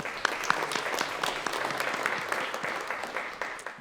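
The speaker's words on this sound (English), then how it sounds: "Join me in a round of applause to thank Chartwells for our delicious brunch" An audience at a university alumni awards ceremony brunch claps in a moderate, steady round of applause with scattered sharp individual claps, fading slightly toward the end.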